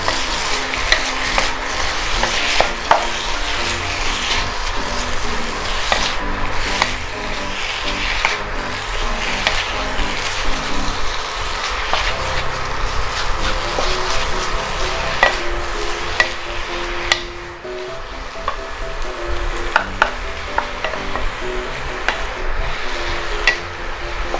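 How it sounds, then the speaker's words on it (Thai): Steady sizzling and scraping of pork being stir-fried in a hot pan for pork with cabbage, with spatula clatters throughout and no talking. "นี่เราผัดหมูนะครับ ให้หมูมันสุกนะครับ"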